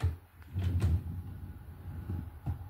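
A side table drawer is pulled open with a few soft wooden knocks and a short sliding rattle, close by and fairly quiet, with no talking.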